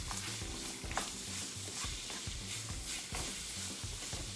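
Chopped onions, celery and bell pepper hitting a hot roux in a pot for seafood gumbo, giving a close, steady sizzle with scraping stirring strokes and soft clatter throughout.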